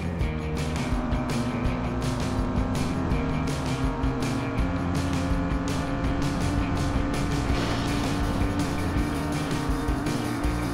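A car engine accelerates in a racing video game set in a water park, a steady droning engine tone holding under a busy, loud game soundtrack for about ten seconds.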